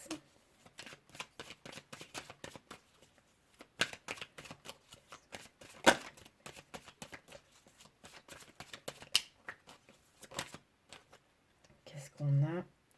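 Playing cards are handled, shuffled and drawn during a tarot-style card reading, giving soft scattered flicks and slides with sharper snaps, close and quiet, while someone talks over much of it.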